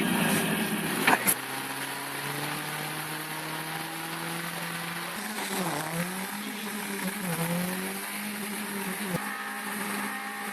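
A Peugeot 306 with side exhaust and a Volvo 240 with a welded differential held at full throttle: loud, sustained engine howls with layered droning tones that dip and rise in pitch, opened by a few sharp bangs.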